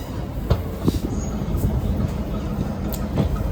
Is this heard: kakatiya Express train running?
yes